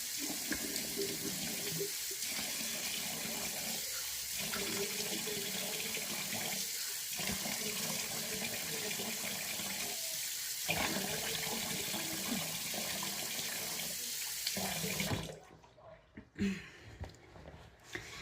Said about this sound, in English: when I rinse off the cleanser is I'm going to get cold water